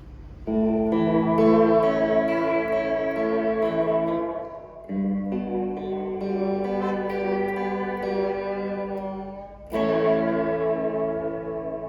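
Sustained electric guitar chords through a Fender Reflecting Pool pedal, washed in heavy reverb and echo, ringing out and decaying, with a fresh strum near the end.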